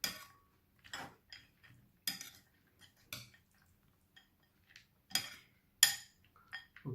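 Spoon clinking against a bowl while a peanut salad is mixed, a series of sharp, separate taps and scrapes spaced out with quiet gaps in between, close and fairly soft.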